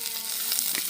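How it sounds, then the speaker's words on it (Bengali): Potato, green chilli and onion frying in a little oil for aloo paratha filling: a short, even, close sizzle. "কাঁচা লঙ্কা পেঁয়াজটা ভেজে"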